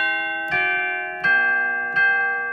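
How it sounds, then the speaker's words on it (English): Church bell voice from a Kawai DG-30 digital grand piano: three resonant bell strikes about three-quarters of a second apart, each ringing with long sustained overtones that layer into one another, played alone and fairly loud. "Church bells."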